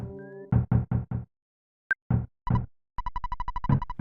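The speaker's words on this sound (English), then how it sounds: "Someone's knocking at the door." Knocking at a door in the Earthbound video game: a soft game knock sound among short chiptune-style blips and tones, with a brief sharp chime in the middle and a rhythmic burst of repeated notes near the end.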